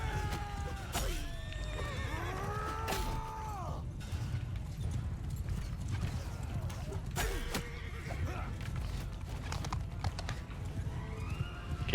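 Horses neigh and whinny repeatedly over a steady galloping rumble and clatter of hooves in a medieval battle video game with cavalry and horse archers, several calls rising and falling against a constant dense battlefield din.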